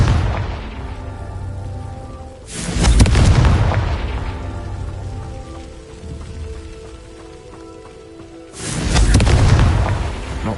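Confringo spell blasts in Hogwarts Legacy erupt as two heavy booming explosions several seconds apart, with crackling debris and rumble trailing between them.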